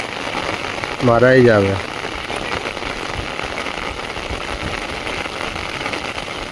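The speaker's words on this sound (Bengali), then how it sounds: "কন্টিনিউ বৃষ্টি হচ্ছে তো" Continuous rain falls in an even, close hiss, with a single brief spoken phrase early on.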